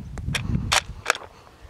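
Sharp gunshots fired at a pumpkin: a few quick cracks of varying loudness in close succession, nearby and outdoors.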